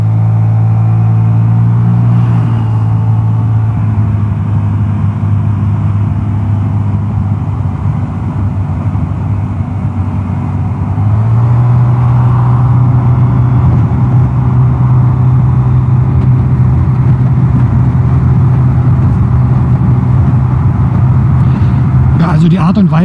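Vespa GTS 300 scooter fitted with Tech pulley variator rollers accelerating toward top speed, a loud steady engine drone with a rising tone and a gear-like shift in pitch partway, heavy wind rumble underneath.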